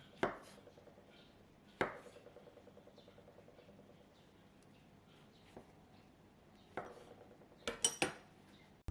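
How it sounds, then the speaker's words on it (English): Knife halving fresh shiitake mushrooms on a cutting board: a few sharp, separate chopping knocks spaced irregularly, loudest in a quick cluster near the end, with quiet kitchen background between. "Cut 4 pieces of fresh shiitake mushroom into half."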